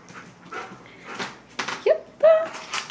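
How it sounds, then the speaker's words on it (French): A dog whimpers up close, giving a couple of short, high whining cries near the end, with quieter vocal sounds and faint talk before them. "Bon chien."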